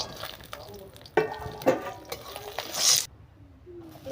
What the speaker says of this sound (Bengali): বেগুন, বরবটি আর পেঁপে দিয়ে ভালোভাবে একটু ভেজে নেব।